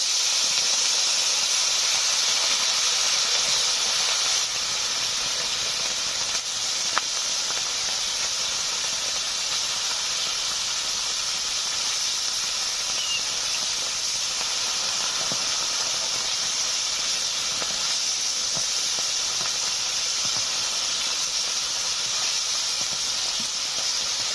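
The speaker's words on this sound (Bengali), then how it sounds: "তেল গরম হয়ে গেছে, মাছগুলো ভেজে নিচ্ছি" Bata fish fry in hot mustard oil in a kadai, giving a loud, continuous hissing sizzle that stays close and nearly unchanged for the whole stretch, with no voices over it.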